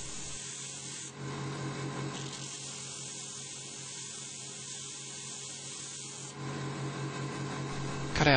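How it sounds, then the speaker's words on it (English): A hand file rasps along the cut-out middle section of a homemade wooden lock piece, smoothing where the tongue slides, in steady back-and-forth strokes with brief pauses, close and alone. "File this section smooth."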